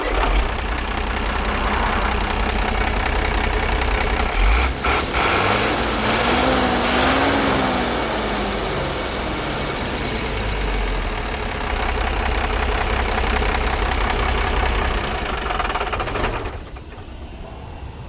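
A truck engine with a turbocharger and exhaust manifold running at idle, a loud, steady, close rumble with a brief rise in pitch partway through before it settles and drops slightly near the end.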